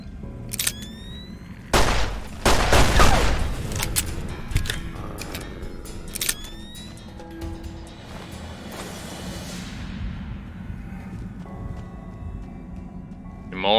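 Several sharp, loud gunshots in Fallout: New Vegas, a couple isolated then a heavy cluster with booming echoes, followed by quieter ambient game noise.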